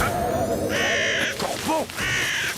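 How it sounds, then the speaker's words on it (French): A crow caws several times, loud harsh calls in short bursts at close range, with a faint voice-like sound between them. "Corbeau!"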